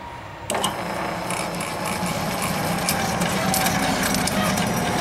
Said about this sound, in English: Now I am going to connect up the belt to the motor, and then I'm going to turn the unit back on.